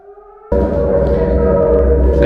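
An air raid siren reenactment in a Spanish Civil War bomb shelter in Alcoy, Spain: after a brief quieter tone, a loud, steady wail surges in and holds over heavy low rumbling.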